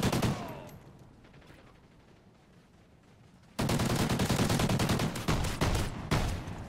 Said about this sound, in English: This thing is like a semi-automatic shotgun.